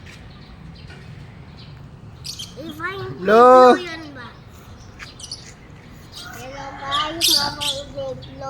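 Pet birds chirp in short bright calls, with a clear burst of repeated tweets near the middle and more chirping toward the end, while a person speaks nearby.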